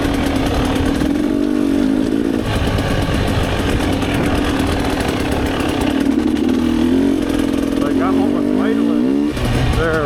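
A Rieju MRPro or Gas Gas EC300 two-stroke dirt bike engine on a Michigan trail loop buzzes and revs loudly and close, with a raspy, crackling note that rises and falls throughout.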